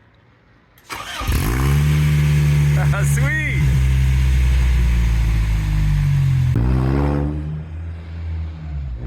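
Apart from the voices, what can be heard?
car engine revving with stainless header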